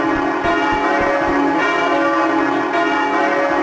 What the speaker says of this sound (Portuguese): Sons característicos daquele lugar, como por exemplo, sinos na igreja lá em Havana.